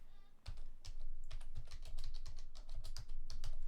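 Computer keyboard typing, a dense run of quick, crisp key clicks in uneven bursts, close and clear over faint room noise.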